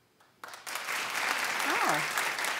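A TV talk show studio audience breaks into applause after a brief quiet start, the clapping swelling and holding loud while a voice cries out over it near the end.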